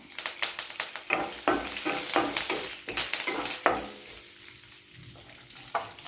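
Curry leaves hit a pan of frying okra and peanuts, giving a continuous sizzle broken by sharp crackles and spoon-scraping stirs, close and fairly loud, with no one talking.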